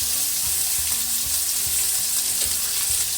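A thick steak frying in a pan makes a loud, dense, continuous sizzle and crackle. It stays close and constant with no voices.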